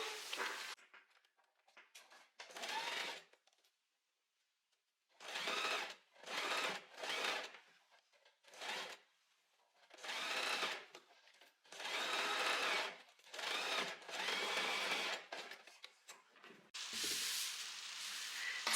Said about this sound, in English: And now we can sew from here to over here.